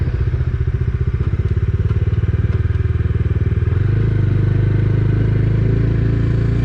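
A Bajaj Dominar 250 motorcycle rides in first gear at low speed with a steady, loud, close thumping engine note that settles into a smoother drone partway through.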